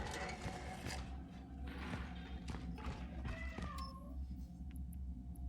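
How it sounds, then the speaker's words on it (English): A cat meows in the video game Cronos: The New Dawn, a few short rising cries amid a dense mechanical background rumble, moderately close. "There's a cat in there."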